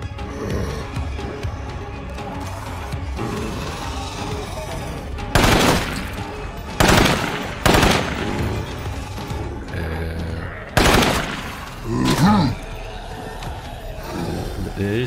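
Gunfire in the State of Decay 2 zombie game: several sharp, loud shots burst out separately at intervals over a steady background of game ambience, with one later crash.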